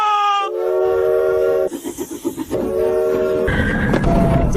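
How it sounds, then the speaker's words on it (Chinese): A loud steam train in an animated series lets out long whistle blasts, then a run of rhythmic chuffs, a second whistle and a rushing roar of steam. "这是蒸汽火车"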